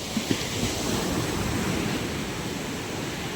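Steady rushing surf of sea waves at a fish terminal shore in Tanza, Cavite, Philippines, with a constant broadband wash, fairly calm and continuous, some wind noise mixed in.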